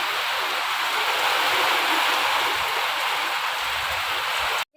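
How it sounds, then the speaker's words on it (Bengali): Heavy rain pours down steadily in a dark evening downpour, a dense continuous broadband hiss with no voices, loud and unbroken until it cuts off abruptly at the very end. "শুরু হয়ে গেল বৃষ্টি ঝমাঝম বৃষ্টি পড়ছে দেখো এখন"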